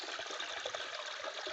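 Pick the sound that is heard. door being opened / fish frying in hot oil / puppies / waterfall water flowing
waterfall water flowing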